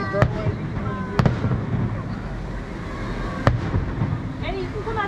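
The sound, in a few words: fireworks show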